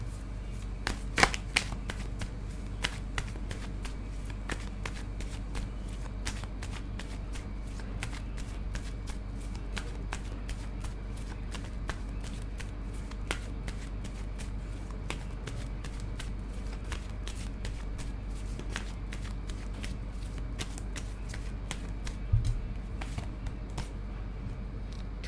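Continuous rapid shuffling of a tarot deck, cards riffling and flicking close up in a steady crisp patter with a few louder snaps, no voices.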